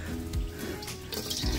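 Water splashes and pours steadily from a container onto the soil around newly planted blueberry and raspberry bushes in a home yard, close and continuous, with a couple of low thuds.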